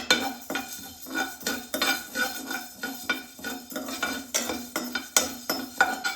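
Coriander seeds fry over a low to medium flame while a spoon stirs them in a pan, making a steady rhythm of scraping and clinking strokes close up, with no voices.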